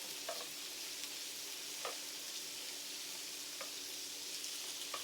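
Steady, quiet sizzling of pork cooking on a Thai tabletop grill pot, with a few soft pops and crackles spaced through it.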